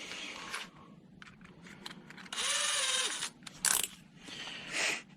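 Quiet bursts of a drill whirring, with ratcheting clicks from the chuck being tightened on a tungsten grinder head, close by and otherwise fairly still.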